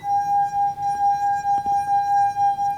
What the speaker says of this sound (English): So what do you think it will sound like if we put less water in the glass?